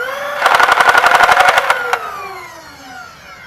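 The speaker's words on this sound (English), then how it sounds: "And firing the Rapidstrike" A modified Nerf Rapidstrike blaster fires a rapid burst of about a dozen evenly spaced sharp pops over a whirring flywheel motor, which then spins down alone.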